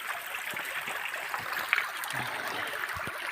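Creek water rushing steadily through a hand-fed gold sluice box at a backwoods creek, a continuous close wash of flowing water with small splashes and no voices.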